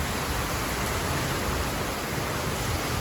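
Dense, steady hiss of heavy rain pouring down without a break, loud and close.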